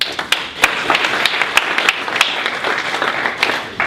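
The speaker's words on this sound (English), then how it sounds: "Let's give a round of applause to them." An audience at a holiday pitch competition claps steadily for a sponsor, a dense, continuous patter of many hands with a few sharper, louder claps standing out.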